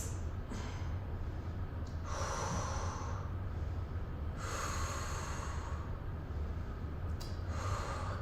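Heavy breathing during a balance workout, loud rhythmic inhales and forceful exhales in uneven bursts, close to the microphone with no talk.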